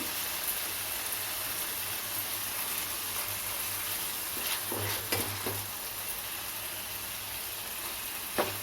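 Ginger garlic paste fries in a pan for tomato rice, giving a steady close sizzle with a few scraping stirs of a spoon.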